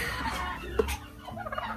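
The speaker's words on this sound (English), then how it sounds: "you hear my turkeys?" Turkeys gobble in bursts against a steady low background rumble, with a brief sharp knock partway through.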